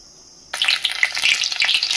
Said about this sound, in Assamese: এয়া প্ৰথমতে কেইটামান জিৰা দি ল'লোঁ, পিঁয়াজ অকণমান দি ল'লোঁ।